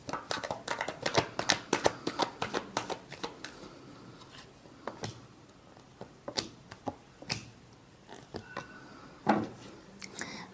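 Tarot cards being shuffled by hand, a rapid series of crisp riffling snaps and slaps up close, bunched in quick bursts early on and then sparser, with no talk over them.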